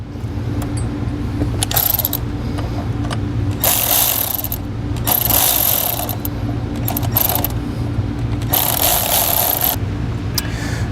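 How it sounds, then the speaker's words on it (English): A 10mm socket on a ratchet and an Allen wrench snug up the bolts on a flat-tow brake system bracket. Bursts of close ratcheting clicks repeat over a steady low hum, and nobody talks. "we'll take a 10mm socket and our V4 Allen wrench, and we're going to snug these up"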